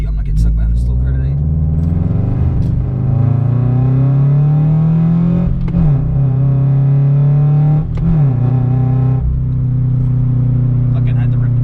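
A car accelerating hard on the road, a loud close engine drone climbing in pitch through the gears with brief shift dips, under continuous speech.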